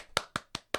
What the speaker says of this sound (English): give that a little round of applause